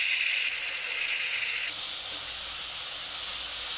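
Water is poured into hot oil with blended spices such as cinnamon and cardamom for an egg korma, setting off a steady, close sizzling hiss that is loud at first, then settles into a softer, continuous bubble.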